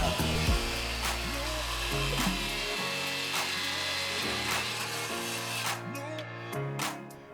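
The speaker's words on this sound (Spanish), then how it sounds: "Con la sierra circular y un disco de 60 dientes, comenzamos cortando el pino oregón" A circular saw fitted with a 60-tooth blade cuts clamped Oregon pine to 120 by 40 centimetres. A steady, close whine with rasping bursts runs under background music.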